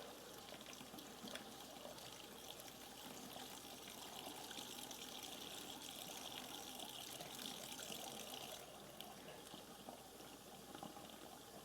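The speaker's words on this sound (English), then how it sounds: "And the hot water is now running pink." Hot water from a tap, running pink with antifreeze while a cabin or RV's water lines are winterized, makes a faint, constant splashing hiss that continues with no pauses.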